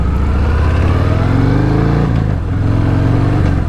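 A 2021 Harley-Davidson Fat Bob engine while riding in fourth gear at about 32 mph, a steady, smooth low rumble with a slight pitch shift midway, loud and continuous.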